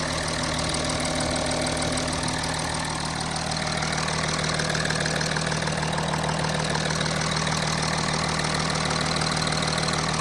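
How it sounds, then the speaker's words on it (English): Audi A6 C7 3.0 TDI diesel engine idling after an injector install, steady loud running with a busy ticking injector clatter throughout, close by with no talk. "Injectors are making a lot of noise."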